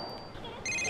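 A cell phone rings in the video game Yakuza Kiwami, a steady electronic ringtone that starts suddenly partway through and carries on loud and clear over quiet background ambience.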